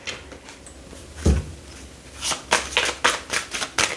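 A deck of oracle love cards is shuffled close by, giving a quick series of papery riffles and flicks that come in rhythmic bursts toward the end, with no speech.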